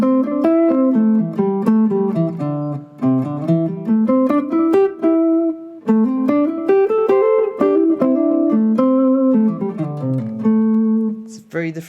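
A guitar plays a contrasting pentatonic blues-jazz phrase, a melodic run of clear single notes with brief pauses between groups, heard up close and alone for about twelve seconds.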